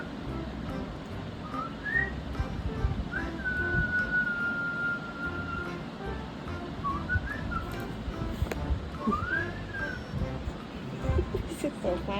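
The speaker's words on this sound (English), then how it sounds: "So I will whistle" A woman whistles to her dogs in a few short, rising and gliding whistles, one held long and steady, over constant background noise with some talking.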